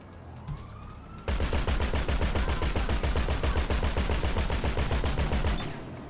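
Rapid, sustained automatic gunfire from Grand Theft Auto V online free roam, a dense loud burst of evenly spaced shots starting abruptly after a quiet lead-in and running almost unbroken for several seconds.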